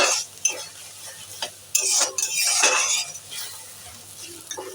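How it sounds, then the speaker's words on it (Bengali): Spice masala with turmeric and cumin powder sizzling and frying in a pan for a Bengali fish curry, with a spatula scraping and stirring in irregular bursts close up. "আর দেব একটুখানি জিরে গুঁড়ো দিয়ে ভালো করে মশলাটা কষিয়ে নেব"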